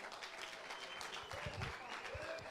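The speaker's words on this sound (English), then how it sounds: "Let's give him a round of applause." Audience applause at a presidential fundraising gold day prize giving, a steady patter of clapping hands from a crowd lasting throughout, fairly even in loudness.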